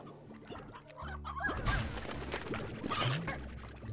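Baby chickens in the video game Slime Rancher cluck and chirp in a busy, continuous stream of short calls, fairly close and loud, with no talking over them.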